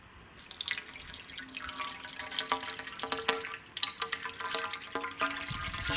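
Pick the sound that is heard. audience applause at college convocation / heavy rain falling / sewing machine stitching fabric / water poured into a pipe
water poured into a pipe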